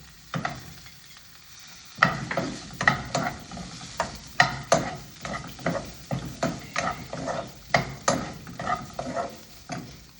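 A spoon stirs beetroot and grated coconut sautéing in a pan, steady sizzling broken by rhythmic scraping strokes against the metal, close and fairly loud, with no talking.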